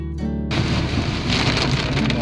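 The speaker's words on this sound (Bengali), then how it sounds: "কি বৃষ্টি হচ্ছে বাপরে বাপ, এতই পুরো ঘন জঙ্গল, তার মধ্যে বৃষ্টি হচ্ছে" Heavy rain pours down in a dense forest at Amboli Ghat in Maharashtra, a loud, steady hiss of downpour that starts after a short tonal sound.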